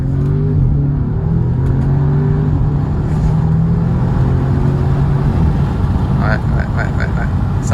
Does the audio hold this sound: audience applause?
no